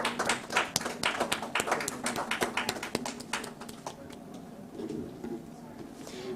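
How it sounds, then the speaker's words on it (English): Audience at an investment summit claps for award recipients, a sparse scattering of sharp individual claps that thins out after a few seconds, with faint room noise beneath. "Let's give them a huge round of applause again."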